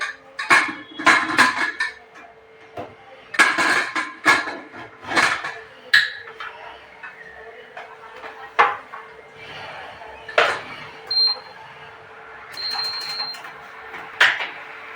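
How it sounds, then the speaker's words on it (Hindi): A pressure cooker holding washed potatoes is set down on an induction stove in a home kitchen, with a series of sharp metallic clanks and clatters followed by a couple of short electronic beeps. "मैंने ये आलू धो के और कुकर में कर लिए हैं। मैं ये रखने जा रही हूँ इंडक्शन पे।"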